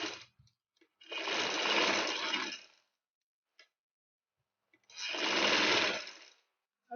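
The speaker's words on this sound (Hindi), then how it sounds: "हम सारी इसी तरह सिलाई लगाएंगे।" A sewing machine stitches cloth for a poncha design in two loud, steady bursts of about two seconds each, separated by silence and faint clicks.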